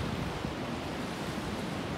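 Ocean surf at a surf beach, heard as a steady broadband roar of breaking waves and wash, constant and moderately loud, with no voices.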